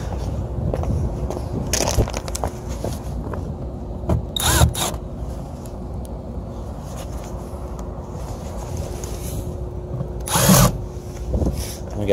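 Power drill fitted with a magnetic Malco 1/4 and 5/16 driver bit, driving screws during HVAC work; short whirring bursts come up close and loud over steady background noise, and a voice talks in places.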